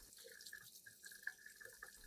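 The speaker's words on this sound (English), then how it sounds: "I will thoroughly rinse the entire orchid with clean water." Tap water rinses an orchid plant, giving a faint, continuous splashing stream with small bubbling flickers, close and steady for about two seconds.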